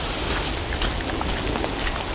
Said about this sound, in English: I've been waiting for the rain to decide to bugger off,